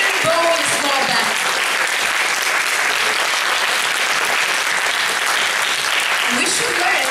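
Applause from an audience at a Japanizam 2018 convention event fills the space steadily, dense and loud throughout, with brief voices and whoops rising over it near the start and end.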